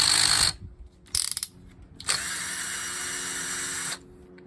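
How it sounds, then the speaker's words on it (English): Carburetor screws being removed from a vintage 1970s–early 1980s Echo SRM-140DA grass trimmer, heard as bursts of close ratcheting and a sustained buzzing whir of a power driver, starting and stopping in a few distinct runs. "Take off the 2 screws holding the carburetor on."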